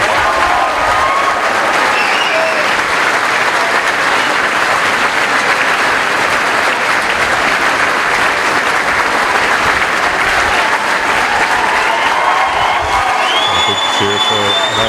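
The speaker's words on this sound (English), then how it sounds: "Cheer for Mark Malloy there." A large crowd at a county senior hurling final in Meath breaks into sustained loud applause with scattered cheers and whoops, dense and continuous throughout, with an announcer's voice faintly beneath.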